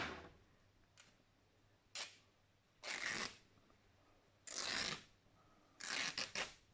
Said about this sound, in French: Je découpe, je mets juste un coup de ciseau.